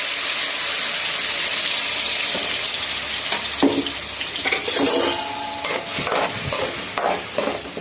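Ground paste hits hot oil in a kadai and sets off a loud, continuous sizzle, with stirring scrapes and a few sharper crackles as it fries.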